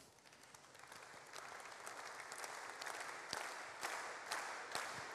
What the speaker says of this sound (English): I'm going to ask you to clap synchronously.